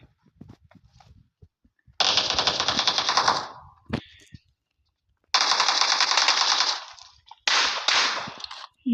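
Automatic gunfire in the video game PUBG comes in three long rapid bursts, loud and close, separated by short pauses and a single sharp shot, with faint game sounds between.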